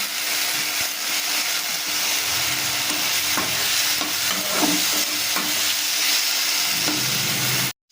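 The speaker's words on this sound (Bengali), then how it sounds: "এবার এটাকে ভালো করে আমি কষিয়ে নেব" Chopped tomato masala with turmeric sautés in a pan for a fish-finger dish, a steady close sizzle with intermittent stirring scrapes and clinks, no voices.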